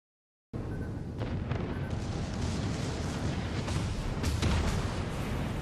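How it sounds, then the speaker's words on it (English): Alabama battleship main guns firing shells in World of Warships, heavy booms over a dense, steady low rumble of battle noise after a brief silent start. "with those few shells that I fire, boom, my first kill in the Alabama"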